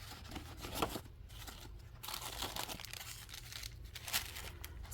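Glassine paper bag crinkling and rustling near at hand as it is handled, with scattered crisp crackles and soft tearing-like swishes across the clip, no speech.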